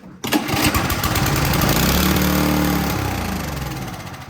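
A Toro Power Clear snowblower engine that would not start, primed with starting fluid, fires almost at once on the pull and runs loud and close, its buzzing roar slowly easing down.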